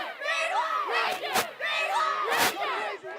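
Football fans in the stands at a Friday night high school game cheer and yell in loud crowd bursts, with rising shouts peaking twice over a steady roar of voices.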